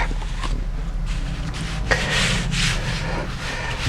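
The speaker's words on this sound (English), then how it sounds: "to do my spoon rubbing" Steady dry rubbing of a spoon over paper laid on a deeply carved relief print block during hand printing of a reduction print, a continuous close scraping texture with no talk.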